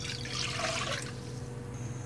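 A glass of water is poured for sugar syrup, a steady splashing stream for about a second that settles into a quieter trickle, close and moderately loud with no one speaking.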